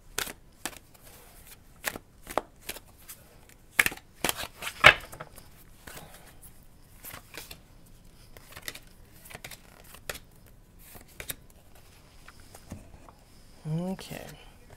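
Tarot cards shuffled by hand at close range, a string of short papery riffles and flicks scattered across the stretch, fairly quiet and heard alone.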